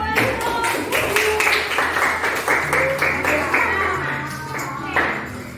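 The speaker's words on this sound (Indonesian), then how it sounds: "Tepuk tangan untuk bukti." Classroom clapping from a group of students, a steady patter of many hands lasting several seconds with some scattered taps and faint voices mixed in.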